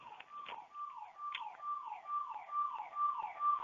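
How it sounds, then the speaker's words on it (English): Siren going off outside, a repeating falling wail cycling about twice a second, steady and moderately loud, heard alone with no talk. "What I would like to do is stop the share now and come back to it after that siren goes off, because it's interfering."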